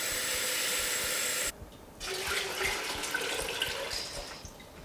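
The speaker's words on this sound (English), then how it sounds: "In another pot, add water and bring it to a boil." Water pours in a steady, loud hissing stream into a cooking pot for about a second and a half, then breaks off and continues as softer splashing and trickling in the pot.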